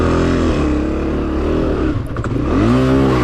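A Honda CRF250F dirt bike at a hare scramble race, its engine droning loud and close with a steady, labored chug that dips briefly before picking back up.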